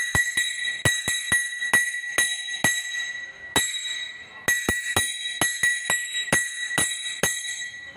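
A drinking glass struck with a metal spoon gives a series of bright, ringing clinks in an uneven rhythm, each tap ringing clearly on its own at close range.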